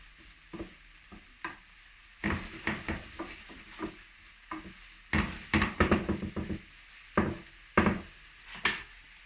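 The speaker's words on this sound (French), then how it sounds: "Venez mélanger tout ça." Salted eggplant being stirred in a frying pan: irregular scraping and clattering strokes of a utensil against the pan, bunched in bursts, over a soft sizzle with no talking.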